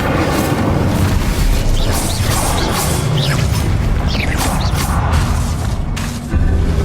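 Incendio fire spell in the game Hogwarts Legacy, a loud roaring whoosh of flame with rumbling bursts and crackling swells that run continuously, briefly easing near the end.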